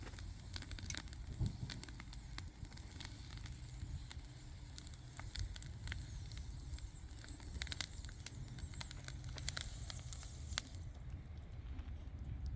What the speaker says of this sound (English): I hear some steaming sounds.